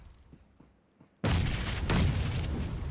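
A grenade detonates in the PUBG Mobile video game during a competitive match, a sudden loud boom after quiet background, followed by a second blast rolling into a sustained rumbling roar.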